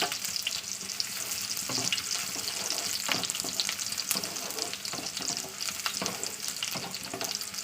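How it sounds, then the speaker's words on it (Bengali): Onions dropped into hot oil in a pan, a dense, steady crackling sizzle close up, with occasional stirring scrapes layered over the constant hiss. "তেল গরম হয়ে গেলে পেঁয়াজটা দিয়ে দিলাম"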